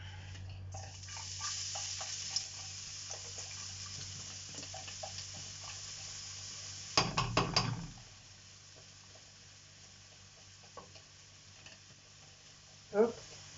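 Food cooking in a pan and stirred with a silicone spatula, a low steady sizzle with soft scraping, a louder clattering burst midway and a sharp knock near the end, heard without talk.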